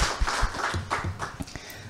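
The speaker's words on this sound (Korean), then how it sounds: "먼저 자기 자신을 위해서 박수 한번 치고 시작하도록 하겠습니다" A seminar audience claps for themselves, a short burst of scattered, fairly quiet hand claps with uneven rhythm from a small indoor crowd.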